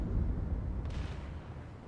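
Deep, heavy booming rumble of the battleship Fuso's main guns firing in World of Warships, a low concussive roar that swells and slowly decays across the short span with no voices.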